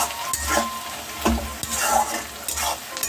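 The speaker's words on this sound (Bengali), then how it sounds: "এটা লাল লাল করে ভেজে নেব।" Onions, bay leaves and whole spices (cardamom, cloves, cinnamon) frying in a pan for a home-cooked meat curry, a steady close sizzle broken by a few spatula stirs and scrapes, with no talking.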